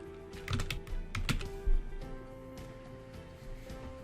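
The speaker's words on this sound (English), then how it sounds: "Next, we're going to click on the B for bold and type the title of your essay." Keys on a computer keyboard being typed for an essay title, a quick run of crisp clicks early on, then lighter scattered taps, close and fairly quiet against a steady hum.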